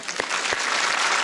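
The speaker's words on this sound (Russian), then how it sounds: "Давайте особо идиотским случаем аплодировать." A Comedy Club audience breaks into dense, steady applause that builds quickly and fills the room, loud and close, with a couple of sharper claps near the start.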